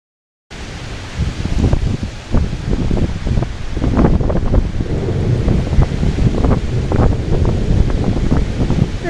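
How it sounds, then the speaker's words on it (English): Storm wind during a homestead power outage gusts loudly and continuously, buffeting close against the microphone with rustling, turbulent bursts and no talking. "Quite the storm we're having here."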